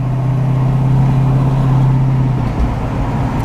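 Interior drone of a 1965 Ford Mustang Fastback GT350H Hertz tribute car cruising, a loud steady engine hum holding one pitch, then dropping briefly as the gear shifts.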